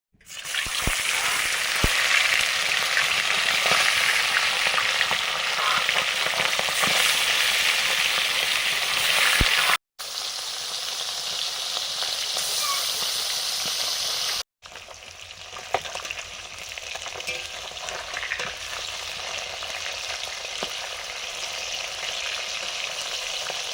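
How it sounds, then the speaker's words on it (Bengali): Fish fries in mustard oil in a wok, a loud, dense, continuous sizzle that cuts out twice briefly and then resumes slightly softer with faint stirring. "এবার কড়াতে তেল দিয়েছি, সর্ষের তেল, মাছ ভাজবো"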